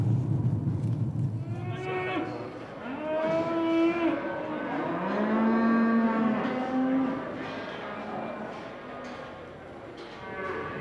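Cattle low repeatedly at a livestock mart in Kilmallock, several overlapping moos, some near and some farther off, over a steady background murmur of the sale yard.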